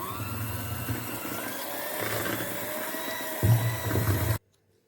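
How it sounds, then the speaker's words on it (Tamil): Electric hand beater whirring through chocolate cake batter with milk just added, a steady close mechanical drone that gets louder toward the end and then cuts off abruptly. "பால் சேர்த்தி 1 நிமிஷத்துக்கு பீட் பண்ணி எடுத்துக்கிட்டோம்"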